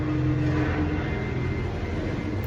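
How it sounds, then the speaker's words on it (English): A distant aircraft rumbles overhead, a broad steady roar with a faint hum, no speech. "we have like an airplane or a helicopter overhead"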